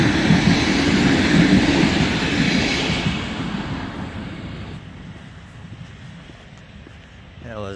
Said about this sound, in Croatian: Evo ide nam i voz.